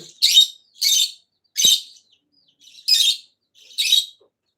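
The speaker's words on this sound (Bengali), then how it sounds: "লাভবারটা কি পরিমাণ চিৎকার করে" Pet lovebirds give five loud, shrill screeches, each a short burst with pauses between, close by and without other noise.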